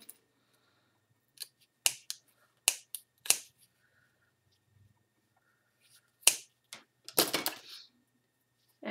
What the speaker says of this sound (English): just cut off the excess wool